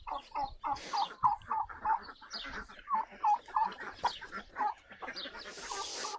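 Roosters and hens at a farm ecolodge near Marrakech cluck in a steady stream of short repeated calls, close and moderately loud, with no talk over them.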